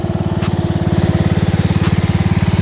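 A restored Craftsman lawn tractor engine runs steadily nearby, its loud, even low putter pulsing rapidly and continuously, with two brief faint clicks over the top.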